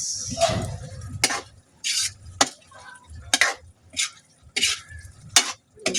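Bottle gourd and sardines being stir-fried in a pan, with repeated scraping and stirring strokes of a utensil against the pan over a low sizzle, the strokes coming in irregular bursts close by.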